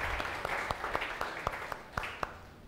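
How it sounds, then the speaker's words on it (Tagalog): A church congregation claps for several seconds, with sharp individual hand claps standing out over a dense, fairly loud wash of applause. "Everybody shout and say, Amen. The best mong palakpak para kay Jesus."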